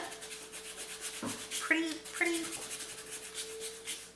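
Fingers pressing hard as they rub micro fine glitter over Copic marker colouring on paper, making soft, close scuffing strokes with brief voice sounds mixed in.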